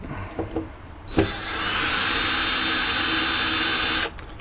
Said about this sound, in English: electric screwdriver to remove these 4 torque screws